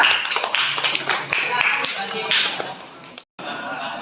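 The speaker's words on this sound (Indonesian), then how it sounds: "Beri tepuk tangan." A classroom of students claps for a student group, with quick, bright, uneven claps ringing out briefly before stopping suddenly, and a voice speaking over the start.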